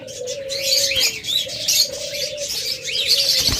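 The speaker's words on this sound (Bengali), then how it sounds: "এরপর আপনাদের বেশ কিছু ঘুঘু পাখি দেখাই" A pair of ghughu doves with their chick: soft, low coos repeat steadily at close range, with bright, thin chirps and twitters running above them throughout.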